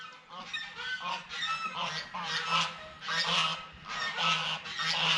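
Chickens squawk loudly, giving a run of repeated honking, harsh calls in uneven bursts close by, one overlapping another with barely a pause.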